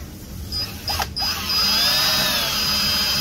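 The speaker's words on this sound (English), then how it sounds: "that's our bolt holes drilled" A power drill bores 11.5 mm bolt holes in suspension parts for a Commodore, starting with short bursts and then running as a steady, loud, close whine with a rising and falling pitch.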